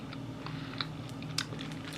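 A couple of sharp, crisp bites into Korean fried chicken with crunchy chewing, close up against a steady low hum.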